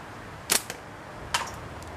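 A slingshot fires twice, two sharp snapping cracks about a second apart in an otherwise quiet outdoor setting, the first followed by a faint secondary tick.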